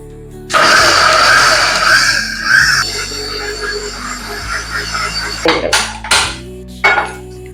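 A mixer grinder jar blends pancake batter in a home kitchen, running loud and steady for several seconds before stopping, followed by a few short clattering knocks as the jar is handled.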